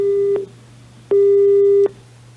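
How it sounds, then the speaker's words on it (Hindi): Telephone busy signal heard while placing a call to a doctor: two steady electronic tones, one short and one longer, separated by a brief gap, clear and alone. "इनको कॉल किया जा रहा है।"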